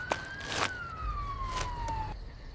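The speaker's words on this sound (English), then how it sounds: "Police car!" A police car siren wails in a single long, gliding tone that sweeps slowly downward, fairly loud and steady against a rumbling outdoor background with a few faint thuds.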